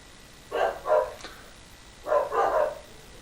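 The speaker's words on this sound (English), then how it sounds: "That's the dogs barking at something outside." Dogs bark at something outside in two close pairs of sharp woofs, a short gap between the pairs, heard from a little distance against a quiet room.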